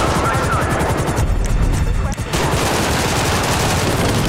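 Rapid bursts of automatic gunfire in the video game GTA 5 ring out loud and continuous, with a brief lull in the middle before the shooting resumes.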